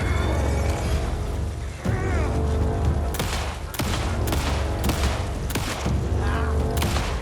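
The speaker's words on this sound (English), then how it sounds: "How many shots?" Gunshots in the video game Alan Wake 2, about six loud sharp blasts at irregular intervals over a constant rumbling game ambience.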